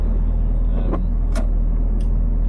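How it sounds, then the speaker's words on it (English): A 1989 Mazda MX-5 Mk1 engine idles at about 1200 RPM with an unsettled idle. The low, steady hum is broken by a few faint clicks. "I don't know if you'll notice then when it was idling, the idles went once more at about 1200 RPM."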